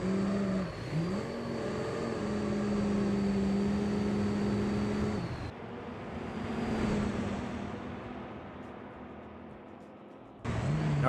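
A 2010 Ford F-350 truck drifts in the BeamNG.drive video game, its engine droning loudly with shifting pitch, briefly dropping away mid-clip and then surging back, with no voices.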